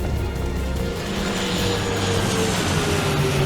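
An airplane drones steadily overhead as a sound effect, a continuous broad engine roar with a faint shifting tone, loud and unbroken, no voices.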